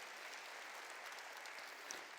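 A church congregation claps together in praise during a sermon, a steady, even wash of applause from many hands that lasts the whole moment.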